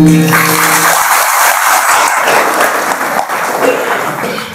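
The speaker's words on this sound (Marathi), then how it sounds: "मोठ्याने टाळ्या वाजवा." Loud applause from an audience at a Marathi kirtan, a dense continuous wash of clapping that starts right away and holds steady, tapering slightly at the end.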